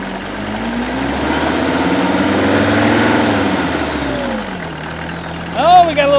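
A Mercedes W126 300SD diesel engine, started after sitting ten years, idles steadily and close, its pitch swelling slightly mid-clip with a faint rising turbo whine, then settling lower before brief clattering noises at the end.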